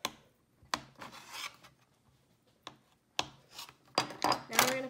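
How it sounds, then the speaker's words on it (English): A knife chops a bar of soap into small cubes on a cutting surface, giving a series of sharp close cuts and scraping rasps at an irregular rhythm, with faint talk in the background. "Chop it into like little tiny cubes."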